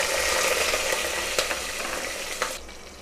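Chopped onions and green chillies fry with whole spices in hot oil for a chicken biryani, giving a steady, close sizzle with faint stirring scrapes and no talk.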